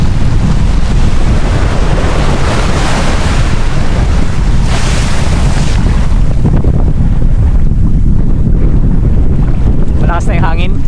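Strong, steady wind buffets the microphone at Rapid Bay, a beach campsite, with a constant roaring rumble and surf-like wash throughout, close and loud, with a faint voice near the end.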